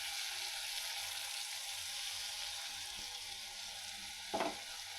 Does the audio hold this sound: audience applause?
no